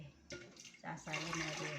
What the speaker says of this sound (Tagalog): Ilagyan ko lang ng tubig para hindi sayang yung